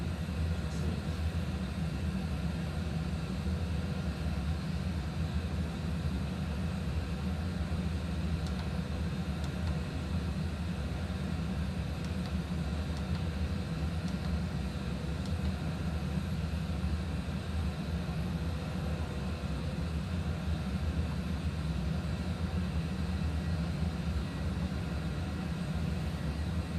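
An airliner's engines drone in a steady, continuous, broadband hum during a climb in a flight simulator game, with no noticeable changes throughout.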